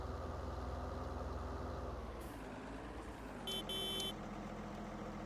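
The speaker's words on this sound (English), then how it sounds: "Gives an opportunity to listen to the engine on this thing." Tractor engine idling in the Farming Simulator 19 video game, a steady loud low rumble with a brief pitch shift midway and a short electronic beeping near the end.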